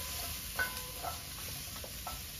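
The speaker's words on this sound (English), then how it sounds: "the vegetables are gonna sweat and they're gonna mix together with all of the delicious bits" Vegetables sweating with browned beef short rib bits in a pot for braising, a faint steady sizzle with a few light stirring clicks and scrapes, no voices.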